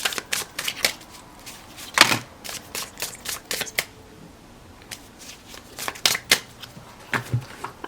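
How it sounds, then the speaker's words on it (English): Playing cards being shuffled by hand during a pick-a-card tarot reading, heard as a series of quick, crisp riffles and snaps in irregular bursts at close range, with no talking. "Think of yourself while I shuffle."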